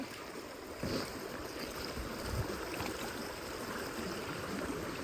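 Water in a village canal swollen by heavy rain flows and gurgles steadily, a broad rushing wash with occasional splashes, heard close with no talking.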